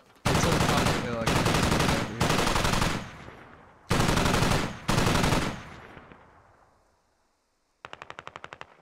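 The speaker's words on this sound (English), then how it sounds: "Shots coming in towards the MTLB. Is that something shooting at us? Something heavy." Heavy machine gun fire in the tactical shooter game Squad, aimed at an MT-LB armoured vehicle: long, loud sustained bursts in several strings with decaying echo, then a brief quieter rapid burst at the end.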